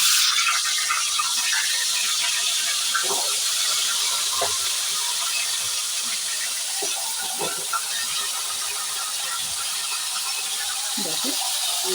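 A fish head fries in hot oil, giving a steady bright hiss that holds for the whole stretch with scattered faint pops and no voices.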